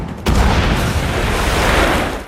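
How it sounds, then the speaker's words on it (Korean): Explosion of a train on the railway tracks in a World War II film, a sudden deep blast that cuts in after a brief quiet moment and rumbles on loudly and continuously. "뒤이어 기차도 선로에서 폭발을 마주합니다."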